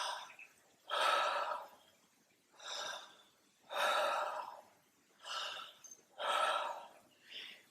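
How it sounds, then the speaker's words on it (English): Connected breathing through the mouth, each inhalation running straight into the exhalation with no pause, giving about six breathy rushes that swell and fade in a steady rhythm, close and moderately loud with no talking. "the method of breathing we're using is inhalation and exhalation through the mouth without any pause in between"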